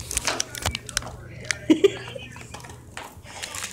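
A dog chewing a food treat, with wet crunching bites and irregular clicks close by, interspersed with soft voices and a chuckle.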